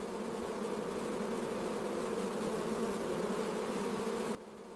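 Thousands of honeybees drone inside a sealed glass box observation hive, a steady dense buzz holding at even loudness for several seconds before dropping abruptly to a quieter hum near the end.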